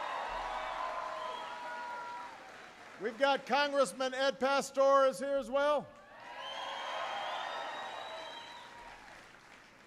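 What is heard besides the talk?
audience applause at a speech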